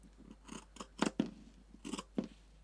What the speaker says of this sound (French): Il va falloir couper tout le long de la couture en laissant une marge de couture